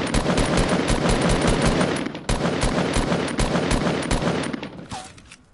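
Rapid automatic gunfire in the Fortnite video game, dense bursts of repeated shots with a short gap midway, loud and close before tapering off at the end.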